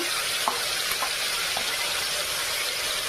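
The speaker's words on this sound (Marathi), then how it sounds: "कढईमध्ये तेल टाकलेलं आहे। तेलामध्ये कांद्याची ग्रेव्ही टाकलेली आहे।" Onion gravy fries in hot oil in a kadai, giving a steady, even sizzling hiss with a few faint clicks and no voices.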